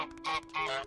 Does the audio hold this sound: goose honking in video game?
yes